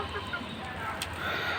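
Laying hens clucking in a yard, soft intermittent clucks at moderate distance over a low steady background.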